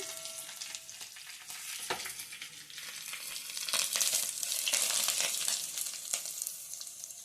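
Hot tempering with curry leaves poured into moringa leaf dal, a loud close sizzle and bubbling hiss that swells midway and continues steadily with no talking.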